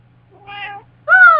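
A house cat meows twice indoors while people gather to play Mario Kart Wii, a softer drawn-out call followed by a louder, rising one, close by and with no talking over it.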